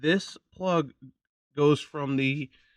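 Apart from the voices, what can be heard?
No everyday noises stand out.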